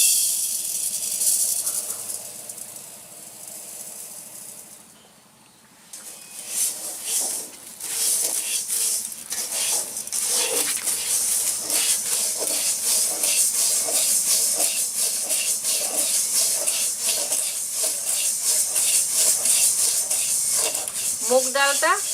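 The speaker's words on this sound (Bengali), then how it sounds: "প্রথমে আমরা শুকনো কড়াইতে মুগ ডালটা হালকা ভেজে নেব।" Moong dal dry-roasting in a dry wok gives a steady, close hiss with dry rattling and scraping, dipping briefly before the stirring and crackle resume and continue evenly.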